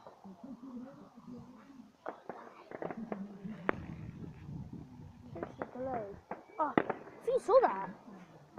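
Fireworks and firecrackers go off at night around back gardens as a series of scattered sharp pops and crackles, mostly distant and faint, heard under nearby talking.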